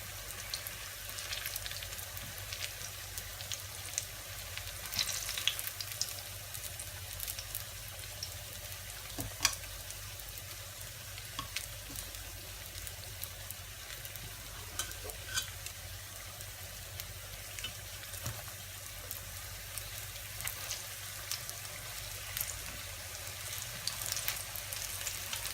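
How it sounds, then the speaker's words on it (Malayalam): Banana fritters deep-fry in hot oil with a long, even crackling sizzle and scattered pops that carry on without pause, close and moderately quiet. "നന്നായി മൊരിഞ്ഞെടുക്കണം"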